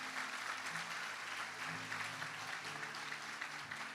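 Church congregation applauding, a steady, even wash of many hands clapping, somewhat distant and soft, with faint low tones underneath and no talk.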